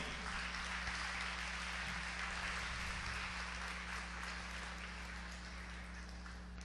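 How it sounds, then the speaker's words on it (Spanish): A church congregation applauds during a Spanish-language sermon, a soft, continuous wash of clapping heard at a distance over a steady low electrical hum. "Démosle un aplauso al Señor, aleluya."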